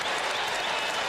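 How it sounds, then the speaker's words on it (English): A basketball arena crowd gives Marquette star Marcus Howard a sustained ovation as he exits the game, with steady, dense applause and cheering filling the space evenly throughout. "listen to this crowd give their star a hero's ovation"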